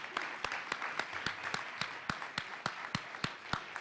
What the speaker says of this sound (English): please join me in a round of applause for all of our candidates this evening